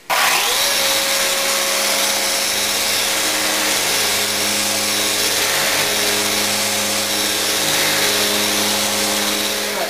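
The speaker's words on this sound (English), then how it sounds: "I finish up with sanding with a 320 grit on a felt block on my downdraft table" Continuous whine of a power sander on wood with 320-grit paper on a felt block, alongside a steady downdraft table's fan-like hum, loud and close, unchanging for the whole stretch.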